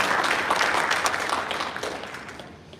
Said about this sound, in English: Can we give them all a round of applause for starting?